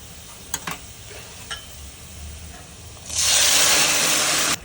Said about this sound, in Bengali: আমি পেঁয়াজটা লাল করা পর্যন্ত ভেজে নিব।